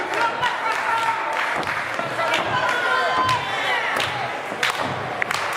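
A wrestling crowd cheers and claps for Mike Gracá after a kick-out from a scoop power bomb, a loud roaring wash with scattered thuds from the ring and a commentator talking over it.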